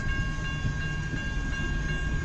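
Westbound CN B731 freight rolling past at speed in Kimball Township, its cars producing a loud, unbroken rumble with faint rhythmic rail clatter.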